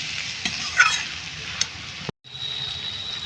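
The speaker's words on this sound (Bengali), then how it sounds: "একটু মাছগুলো একটু হালকা হাতে নেড়ে দেবো" Gently stirring small fish cooking in a tomato curry in a pan, a quiet hissing sizzle with a few soft scrapes and clicks, then a brief cut before the sizzle resumes.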